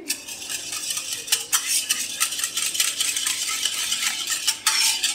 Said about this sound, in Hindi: सबसे पहले हम दही को अच्छे से फेंट लेंगे